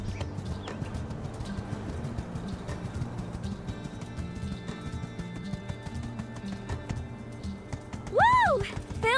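Horse galloping in the video game My Time at Sandrock, with rapid, close hoofbeats running continuously under a steady background and a brief whinny-like cry near the end.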